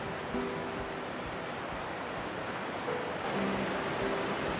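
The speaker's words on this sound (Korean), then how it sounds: "방태산 계곡에서 제일 아름답다고 할 수 있는 이 아주 아담한 폭포가 있는 곳으로 왔습니다" Small waterfall on a mountain valley stream in a primeval forest, a steady broadband rush of falling water that stays loud and constant throughout, with no voices.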